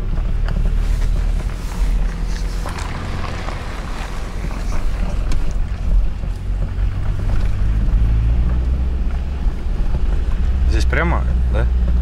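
A car drives along a quiet, empty road with a steady low rumble and broadband wind and road noise throughout, without any talk.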